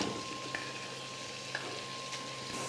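Grated cauliflower cooks with masala in oil in a kadai, a faint, soft sizzle with occasional light scrapes of a spoon being stirred.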